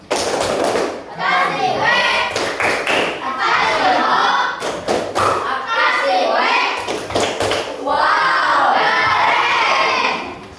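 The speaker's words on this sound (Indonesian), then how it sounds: "Duduk, beri tepuk tangan." A classroom full of children clapping in bursts, with shouting and thumps mixed in, loud and close throughout.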